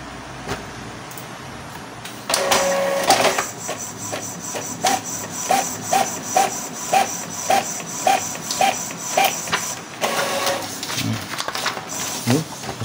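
A new printer runs its first text page, with a mechanical whir starting after a quiet stretch, then a regular train of rhythmic clicks and passes of the print head before the motor winds down.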